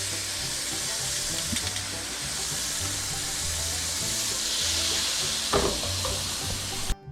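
Venison pieces browning in a hot frying pan give a steady, loud sizzle with a constant hiss throughout, and a brief clatter near the end.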